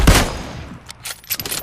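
Gunfire in a shooting video game, with an M24 sniper rifle in play: one loud, close blast opens, followed by a scatter of quieter shots and clatter, with no talking.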